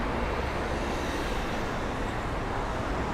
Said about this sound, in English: for these cars to go by.